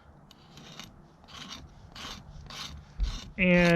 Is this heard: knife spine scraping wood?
yes